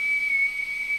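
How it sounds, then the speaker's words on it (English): Kettle whistling as it finishes boiling, a single steady high-pitched whistle held loud and close for about a second. "Your kettle's done."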